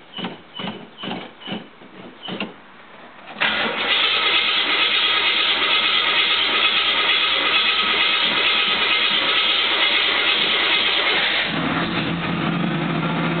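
A 1979 Hurst Olds classic G-body V8 cranks in rhythmic pulses on a cold start, catches, and settles into a steady, loud idle, then the tone shifts slightly toward the end.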